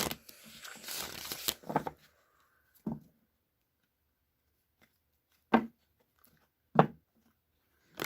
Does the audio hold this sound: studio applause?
no